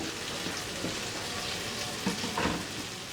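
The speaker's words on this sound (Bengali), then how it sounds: "এখানে আছে কিছু কাঁচামরিচ কুচি, কিছু ক্যাপসিকাম কুচি আর কিছু টমেটো কুচি, এগুলা দিয়ে সাথে একটু ভেজে নিব।" Chopped green chilli, capsicum and tomato fry in a pan with a soft, even sizzle, joined by a couple of brief stirring scrapes near the end, quiet and without talk.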